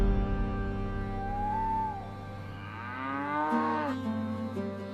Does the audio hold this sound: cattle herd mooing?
yes